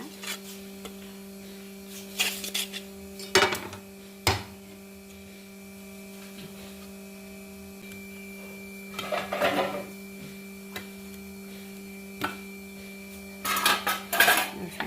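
Thatte idli being lifted out of steel steamer plates, with scattered metallic clinks and scrapes in bursts over a steady low mains hum, and no talk.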